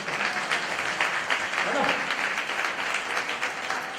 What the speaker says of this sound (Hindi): तो ये बहनों की तरफ से ताली बराबर नहीं आता